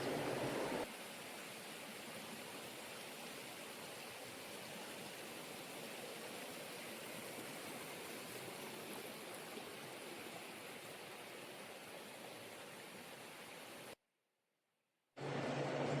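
Small roadside waterfalls along the path to the Kondana caves give a steady, hissing rush of falling water that holds level for a long stretch, drops to a brief silent gap near the end, then resumes.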